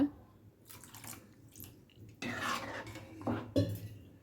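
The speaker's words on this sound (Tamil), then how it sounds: "கைவிடாமல் கொஞ்சம் நேரத்துக்கு கிளறி விட்டுட்டே இருங்க அந்த மாவு வேகிற வரைக்கும்" A spoon stirs thick red rice flour and milk dough in a pot, with soft scraping and sloshing strokes in uneven bursts, quiet and close, and a low voice murmurs faintly in between.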